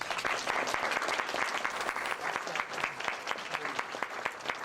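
Audience applause fills a gala hall, a dense, steady wash of many hands clapping close and loud, with occasional louder individual claps and no speech over it.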